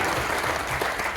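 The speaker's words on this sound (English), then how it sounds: "give them a big round of applause to all the allies" A brief burst of dense audience clapping at a veteran appreciation event, loud and steady across the whole moment with no pause.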